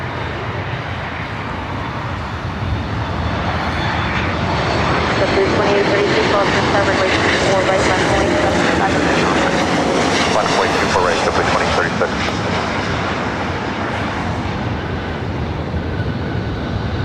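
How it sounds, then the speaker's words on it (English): Boeing 737 MAX 8 jet airliner arriving at LAX, a loud, broad jet engine roar that swells through the middle and stays heavy, with a person talking over it. "coming in from Vancouver, 737 MAX 8"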